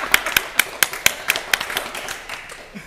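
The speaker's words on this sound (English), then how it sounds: "Give her a round of applause." A small game-show studio audience claps in a quick, steady rhythm, with sharp, close hand claps that fade out after a couple of seconds.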